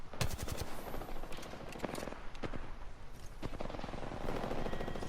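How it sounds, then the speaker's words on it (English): Gunfire in the Apex Legends video game: rapid bursts of automatic weapon shots crackle in quick volleys with short gaps, moderately quiet and mixed with in-game noise, with no talk. "So I started trying to shoot the Bloodhound in Mirage."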